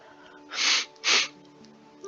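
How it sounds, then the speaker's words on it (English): Two sharp sneezes in quick succession from a person, close and loud, over quiet room tone. "I need to sneeze"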